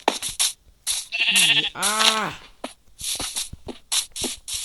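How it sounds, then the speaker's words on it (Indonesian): Sheep grazing on grass bleat in several drawn-out, wavering cries close by, mixed with a person talking over them. "ini domba ngancurin rumput aja ya, sabar"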